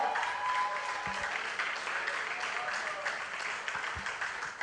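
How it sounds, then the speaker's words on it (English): Audience applause at a business exhibition session, a steady wash of many hands clapping at moderate distance, fairly even throughout with a few low thumps. "A round of applause."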